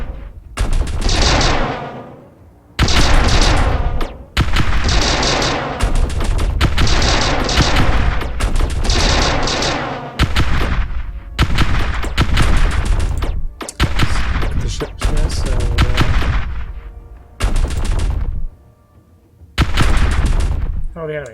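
Spaceship weapons in the Star Drive 2 strategy game fire repeated salvos, dense bursts of crackling shots and booms in clusters separated by brief quiet gaps, loud and continuous over twenty seconds.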